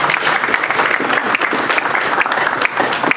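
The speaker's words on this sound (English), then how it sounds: "if we can give Dr. Bush one more round of applause" Audience applauding Dr. Bush after a garden-starting talk, a dense steady wash of many hands clapping that holds loud and even throughout.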